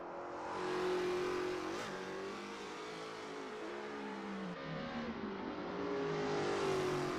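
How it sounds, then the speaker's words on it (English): A Holden Commodore race car engine in the Assetto Corsa racing game drones steadily, its pitch dipping and rising through gear changes and a corner, continuous and moderately close with no talk. "Holden Commodore. Through Murray's Corner for the last time tonight, Braden Carroll."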